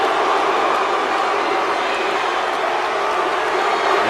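Arena crowd noise from the WWE 2K wrestling video game, a dense, steady roar of many voices filling the background, loud and unbroken throughout.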